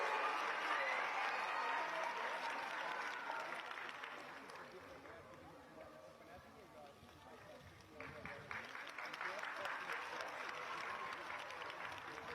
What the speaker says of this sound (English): Let us give a huge round of applause to our students.